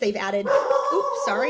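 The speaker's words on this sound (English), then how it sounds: "that's my dog." A pet dog barks and howls in short yelping bursts close by, tangled with a person's continuous speech running over it.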